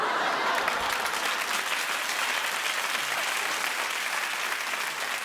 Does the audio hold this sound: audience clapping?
yes